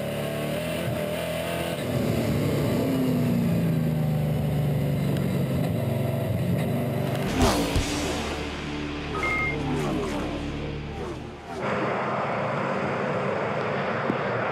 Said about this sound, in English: On the soaking wet track, Romain pushes hard and masters his V8 Dodge Challengers, 400 bhp with consummate skill.